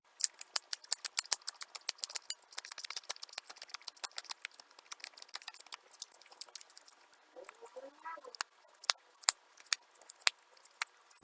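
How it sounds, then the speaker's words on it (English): A deck of trading cards is shuffled close by, producing rapid, crisp riffling snaps and clicks in uneven flurries, fairly quiet, with brief pauses between bursts. "So let me just shuffle my deck."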